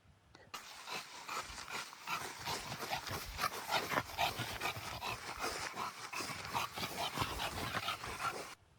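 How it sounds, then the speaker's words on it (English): A dachshund on a person's lap panting and shifting about, a continuous close, busy stream of breathy huffs, rustles and small whimpers lasting several seconds. "That was Freddy on my lap just a little while ago"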